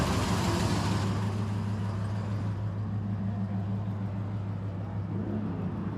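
A 3.5 litre V8 powered Rover pulls away at a car meet, a steady low engine hum and road noise that softens as it moves off.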